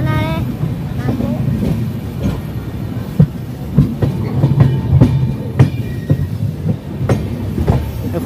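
The Padatik Express rolls on rails between New Changrabandha and New Cooch Behar, with a steady loud rumble and a rhythmic clickety-clack of wheels over rail joints. A voice is briefly heard at the start.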